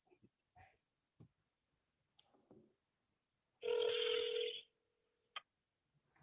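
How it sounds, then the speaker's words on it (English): A mobile phone places a call: faint scattered clicks and taps, then a loud, sustained electronic tone burst, followed by quiet with a few small handling sounds. "I'm gonna do another live call from my phone"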